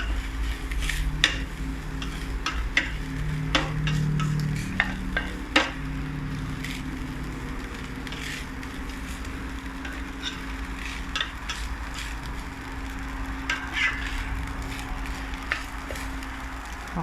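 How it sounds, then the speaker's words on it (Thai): Cooked rice is stirred in a sizzling frying pan, with repeated scraping strokes and spatula clinks against the pan over a steady close frying hiss. "ผัดให้เข้ากันนะคะ"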